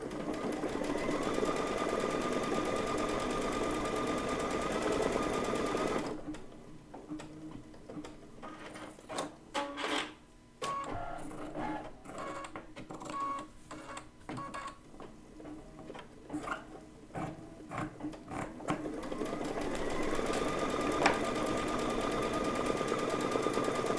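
A sewing machine hums steadily while stitching placement stitches on a quilt block, stopping midway for clicks and handling noises before the steady whir resumes.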